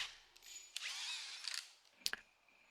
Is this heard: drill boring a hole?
yes